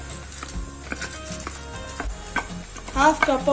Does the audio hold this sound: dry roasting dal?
yes